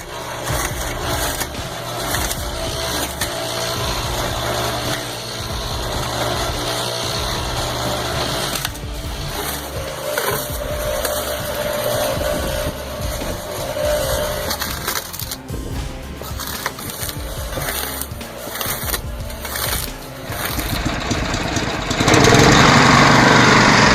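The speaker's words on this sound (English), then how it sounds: "This homemade wood chipper is absolutely flying." A homemade wood chipper runs continuously, a loud engine drone mixed with rattling and grinding of wood, growing harsher near the end.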